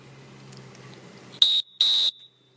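A pesäpallo umpire's whistle signals an out: two loud, close, shrill blasts, a short one followed by a longer one, after a stretch of low background murmur.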